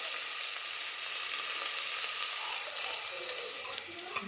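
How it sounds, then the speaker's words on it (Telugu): Amaranth leaves tossed into a pan with cooked moong dal, giving a dense, close, continuous sizzle and hiss with faint stirring sounds. "తోటకూర వేసుకుందాం."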